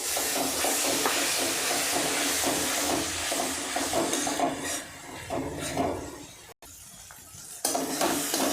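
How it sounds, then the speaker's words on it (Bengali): Spice paste for a prawn and taro curry is sautéed in a pan with a splash of the paste's own water, giving a steady hiss and sizzle with stirring scrapes and a brief quieter break near the end. "এরপর আমি মশলা বাটার জল দিয়ে এই মশলাটিকে ভালো করে কষে নেব।"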